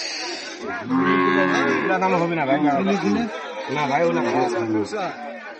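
Deep, drawn-out moos from thin local cows at the Raniganj cattle market, loud and close, layered with the busy chatter of people talking around the animals.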